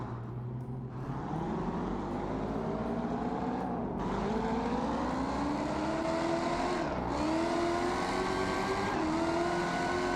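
A simulated 1965 Mustang Boss 302 engine in BeamNG Drive revs hard on a dyno without nitrous, a loud continuous roar whose pitch climbs in long sweeps, dipping briefly between pulls, with no voices over it.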